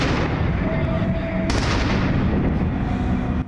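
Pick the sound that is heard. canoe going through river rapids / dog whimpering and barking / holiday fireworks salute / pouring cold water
holiday fireworks salute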